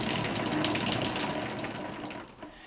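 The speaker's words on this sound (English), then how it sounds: "The trick really is to open it just enough that you're getting a good water flow" Water pours steadily from a shower in an off-grid cabin, a close, continuous hiss and splash that thins slightly near the end, with no voices.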